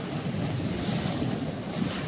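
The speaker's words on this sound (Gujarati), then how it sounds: "આ મોજો આવે છે એટલા." Sea waves wash in at the beach as a steady, broad roar of surf. Wind rushes across the microphone throughout this short stretch.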